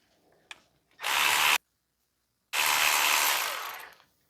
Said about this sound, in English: right now I'm just going to remove the two 14mm bolts that holds the caliper in place